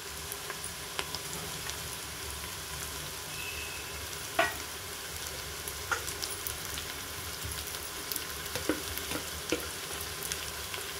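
Green chilies and mint frying in oil for a goat paya curry: a soft, steady sizzle throughout, broken by occasional light pops and spoon clicks.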